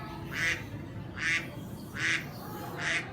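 Mallard duck quacking in the South Texas outdoors, four evenly spaced nasal quacks about a second apart, clear and moderately close over a soft background hiss.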